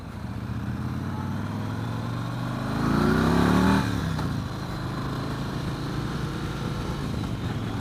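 A 2015 Yamaha Star Raider cruiser engine rumbles steadily on a test ride, swelling louder briefly as it is revved, then settling back to a constant low drone.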